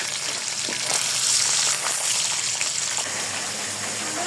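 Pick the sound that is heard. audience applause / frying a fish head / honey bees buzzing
frying a fish head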